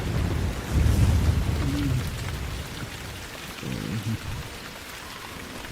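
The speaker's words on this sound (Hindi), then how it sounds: "ऊपर से बारिश और तूफान ने मुश्किलें और बढ़ा दी थी।" Heavy rain pours steadily in a jungle at night with deep rumbling thunder swelling at moments, a dense, close wash of noise with faint voices partly underneath.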